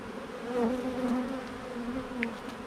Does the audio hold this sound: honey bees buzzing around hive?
yes